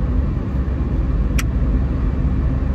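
Steady low engine rumble and road noise fill the cabin of a moving rental car, a continuous drone with one brief sharp click partway through.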